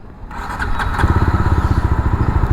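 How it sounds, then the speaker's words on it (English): A JAWA 42 FJ 350 motorcycle engine cold-starts after a brief crank, then settles into a steady, loud, close-up idle with an even thumping pulse. "This is a proper cold start. Feels nice and solid at idle."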